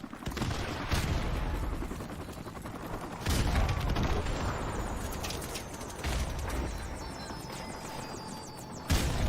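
Machine gun fire in the shooter game Call of Duty Modern Warfare during an online match, sustained bursts of rapid shots with a few louder blasts, mid-distance and fairly steady throughout.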